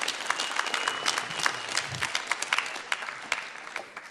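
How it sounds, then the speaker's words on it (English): An audience in a performing arts centre gives a comedian a sustained round of applause, many hands clapping densely and evenly at moderate distance, with no talking. "Just give him one more round of applause."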